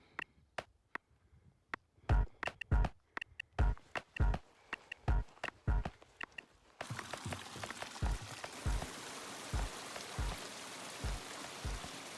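Rain on the Colorado Trail in the Holy Cross Wilderness, with some hail: heavy, irregular drops strike nearby with sharp taps, then a steady wash of rainfall joins while individual thuds keep landing close by.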